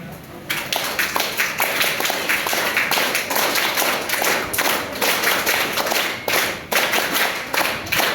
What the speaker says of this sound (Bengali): thank you thank you so much সবাইকে এত সুন্দর একটা হাততালি দেওয়ার জন্য